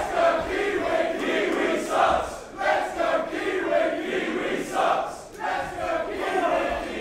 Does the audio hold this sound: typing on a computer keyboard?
no